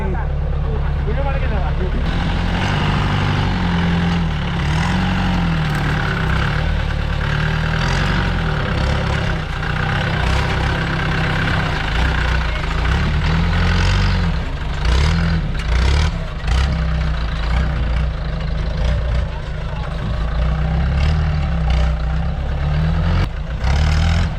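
A heavy vehicle engine labours steadily, close and loud, straining as it climbs a steep road, with people talking over the rumble.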